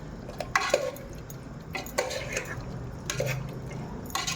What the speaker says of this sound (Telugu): గరం మసాలా ఇప్పుడు మంచిగా మిక్స్ చేసుకోవాలి